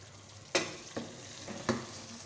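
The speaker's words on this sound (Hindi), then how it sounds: "अब हम लौकी को 1 मिनट तक अच्छे से भूनेंगे मसाले के साथ।" Bottle gourd fries with masala in a pan over a high flame, a steady low hiss of sizzling broken by a few sharp scrapes and knocks of a stirring spoon, close by with no talking.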